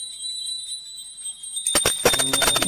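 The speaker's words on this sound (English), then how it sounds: "please ring the bell as you do so" A hand-rung puja bell sounds during a Skanda Shashti ritual, first as a faint high steady ring, then as a rapid, loud burst of clanging strokes.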